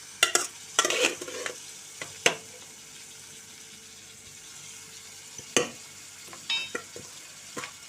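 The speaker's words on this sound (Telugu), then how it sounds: "మనం ఇవి చక్కగా ఉడికించుకున్న గోరుచిక్కుడుకాయ ముక్కలు అయితే దీంట్లో వేసేసుకుందాం" Boiled cluster bean pieces stirred in a pan with oil, a soft steady sizzle broken by several sharp scraping clatters of the spatula against the pan, close and without talk.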